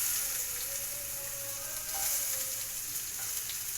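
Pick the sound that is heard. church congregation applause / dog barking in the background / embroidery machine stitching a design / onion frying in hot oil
onion frying in hot oil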